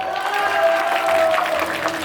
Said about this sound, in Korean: 혹시 박수 한 번 쳐줄 수 있을까요?